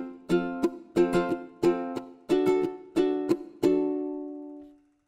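Strummed ukulele chords in a bouncy, syncopated reggaeton pattern: short choppy strokes in quick groups, ending on one ringing chord that fades out.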